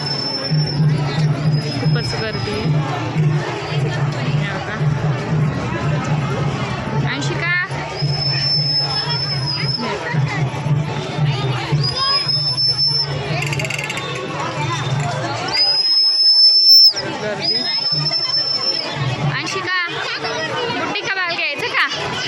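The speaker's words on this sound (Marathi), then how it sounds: "गर्दीच खूप झालेली आहे" A dense crowd chatters in a long queue at a Ganpati festival, a steady babble of many voices close by with occasional high electronic tones and a low hum running under it.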